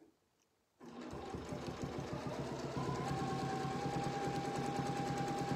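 A sewing machine stitches quilt pieces along a miter line, starting after a brief silence and then running steadily and close with a fast, even mechanical whir.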